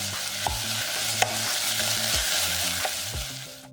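Seasoning of soy sauce, sugar and pepper stir-fries in a pan for kimchi glass-noodle stew, a continuous close sizzle broken by a few sharp clanks of a utensil against the pan.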